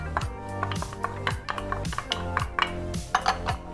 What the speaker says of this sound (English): Give them a little bit of a stir, mix them up.